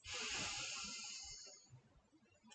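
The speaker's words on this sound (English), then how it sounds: "Big breath in," A deep breath drawn in through the nose during a guided breathing exercise: a single long, close airy inhale lasting a couple of seconds, then quieting.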